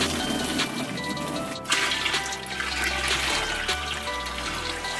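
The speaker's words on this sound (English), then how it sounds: "Now I'm gonna put the hot water in here." Hot water poured into a pot set up for dyeing shoes, a loud, continuous rushing pour that holds steady across the whole stretch with a brief dip partway through.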